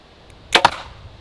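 A broadhead arrow shot into ballistics gel strikes an elk shoulder blade, making two quick, sharp, loud impact cracks in close succession against a quiet background.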